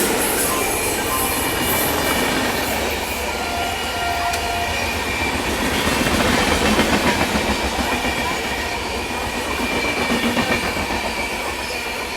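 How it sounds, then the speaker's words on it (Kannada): An express train approaching Kadur railway station at night rumbles steadily nearby with rhythmic clattering wheels and a faint metallic squeal, loud and continuous with no voices. "ಅಲ್ಲೊಂದು ಟ್ರೈನ್ ಅಪ್ರೋಚಿಂಗ್ ಇದೆ"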